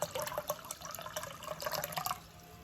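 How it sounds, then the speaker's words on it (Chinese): Water pours from a tap into a large basin being filled for salted water, a close burbling splash with quick irregular gurgles, brief and without talk. "再加入大半盆的清水进来"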